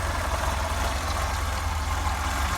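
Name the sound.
Opel Manta 1.8 8-valve engine idling cold, virtually no choke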